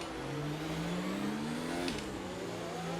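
A race car engine in F1 2019 cruises at reduced power on the Monaco circuit, driving a Williams. A steady, loud engine drone climbs gradually in pitch, dips briefly after a gear change, then holds level.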